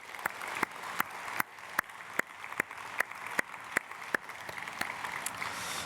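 A church congregation at an early-morning worship service claps in a steady, slow, evenly spaced rhythm, sharp distinct claps repeating about every half second over a quiet hall background.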